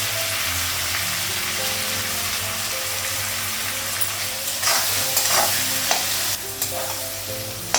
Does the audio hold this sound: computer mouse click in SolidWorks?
no